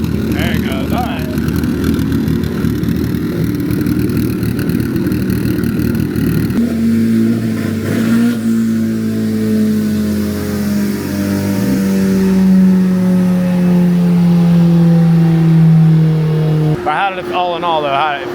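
Kawasaki ZX-14R sport motorcycle fitted with a Stage 1 turbo kit, accelerating on a test ride: a loud engine revs up and rises steadily in pitch through the gears, then cuts off near the end, with voices talking faintly.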